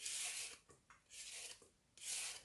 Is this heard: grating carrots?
yes